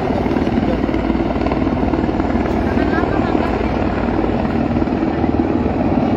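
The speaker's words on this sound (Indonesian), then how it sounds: "Kita lihat ada 3 helikopter dari US Army." Three US Army helicopters at a military training ground during joint exercises give a loud, steady rotor and engine roar that fills the whole stretch, with voices faintly mixed in under the noise.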